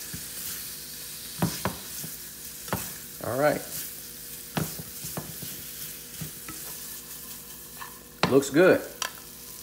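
Shrimp pasta with lemon and garlic sizzles quietly in a pan on a stovetop while being stirred, with a soft, steady hiss and occasional utensil scrapes and clinks. A cook says a few words over it.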